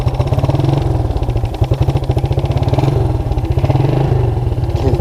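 A Suzuki Quadrunner LT230E ATV engine runs loud and close with the choke off, a rapid, throbbing single-cylinder putter that surges and lightly revs, with no talk over it.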